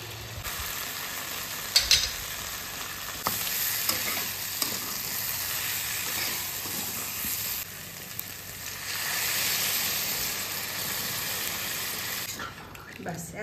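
Mutton sizzling and frying in a pan as it is sautéed for a curry, a loud, continuous hiss with occasional stirring clatter, steady throughout and close to the microphone.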